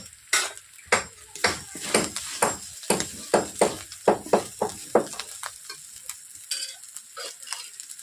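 Chilli powder and turmeric sizzle in a pan of frying spices for a cauliflower and egg curry, with a steady run of rhythmic scraping stirs clinking against the pan, close and fairly loud.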